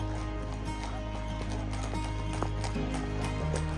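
Horse hooves clip-clop in a quick, steady rhythm during a ride in Pahalgam, Kashmir, heard close under a constant low background hum.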